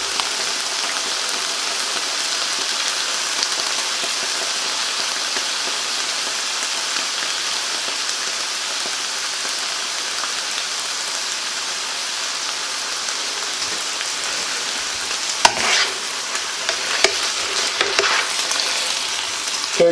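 Guinness stew ingredients browning in a hot pot, a dense, continuous close sizzle like rain on a surface, with occasional stirring clatters near the end.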